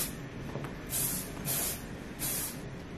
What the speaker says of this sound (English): And we're just gonna spray over the whole thing.